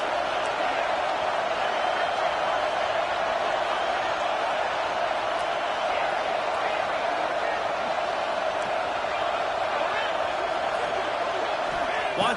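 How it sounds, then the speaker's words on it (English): Steady wash of football stadium crowd noise from a college game, a constant broadband roar held at an even level throughout with no distinct cheers or talk standing out. "This crowd trying to make life miserable for this offense."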